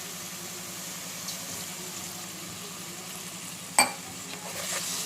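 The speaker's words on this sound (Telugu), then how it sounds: "ఇప్పుడు వాటర్ పోసుకోండి" Water poured into a hot pan of soft cooked tomato pieces for an egg, tomato and drumstick curry: a gentle sizzle, then a sharp splash and a louder hissing burst near the end.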